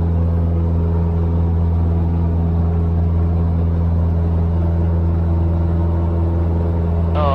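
A Cessna 172 engine drones steadily and loudly from inside the cabin during departure, a constant low rumble with a strong tonal hum and no change in pitch.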